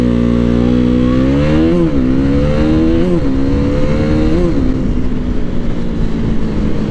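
A KTM Duke 390 motorcycle accelerating hard on a 0-60 run: loud, close engine climbing in pitch through several quick gear changes, then settling into a steady high drone with wind roar, no voices.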